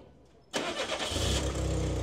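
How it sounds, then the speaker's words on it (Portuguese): A Volkswagen Kombi at a used-car fair in Caruaru cranks and fires up after a brief pause, then settles into a steady, close, fairly loud idle rumble. "pedi para o amigo da partida aqui no motor, para vocês escutarem ela aqui funcionando junto comigo"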